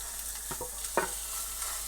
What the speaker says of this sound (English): I want you to stir fry it around and break up the pieces